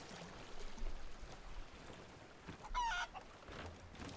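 Chicken clucking in the pirate video game Sea of Thieves, a brief burst of clucks and squawks around the three-second mark over faint ambient game sound.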